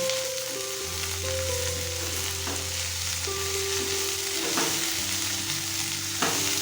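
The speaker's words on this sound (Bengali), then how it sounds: "সব কিছুকে আবারও ভালোভাবে মিশিয়ে নেব।" Malabar spinach shoots with eggplant, turmeric, salt and sugar stirred in a hot pan, a continuous close sizzle and frying hiss with repeated scraping strokes of a spatula throughout.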